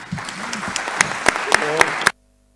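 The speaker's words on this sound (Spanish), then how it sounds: "un aplauso para ellos, por favor." Audience applause at a panel on the future of higher education, a steady patter of clapping with a few sharp louder claps, cut off abruptly after about two seconds.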